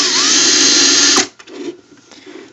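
A DeWALT cordless drill, just repaired after battery-contact corrosion, whirs at full speed with a loud, steady high-pitched motor whine for about a second, then cuts off into quieter handling noises.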